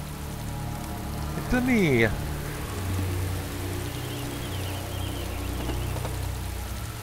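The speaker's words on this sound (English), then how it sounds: "Well, it only seems to be raining indoors over there." Steady rain falls indoors through a leaky roof in the DayZ Origins game, a continuous hiss of drops with a voice speaking briefly over it.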